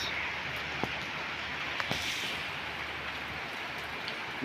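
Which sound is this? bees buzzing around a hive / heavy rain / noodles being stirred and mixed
heavy rain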